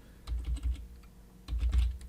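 A computer keyboard clicks as a domain name is entered, two quick bursts of close, crisp keystrokes separated by a short pause.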